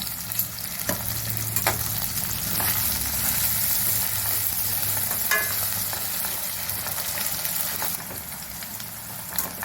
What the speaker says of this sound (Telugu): కాకరకాయ ముక్కలు వేస్తానండి బాగా వేయించాలి క్రిస్పీగా వేయాలి